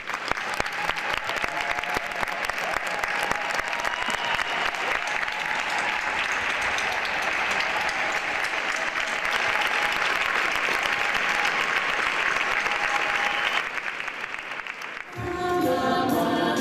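A theatre audience rises and applauds at length, dense sustained clapping from a large crowd that fades slightly near the end before other sound takes over.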